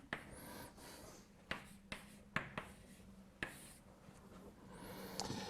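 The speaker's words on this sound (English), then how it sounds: "Maybe I write it down." Chalk writes on a board during a lecture, with a series of sharp taps and short scratchy strokes in an irregular rhythm over a quiet room.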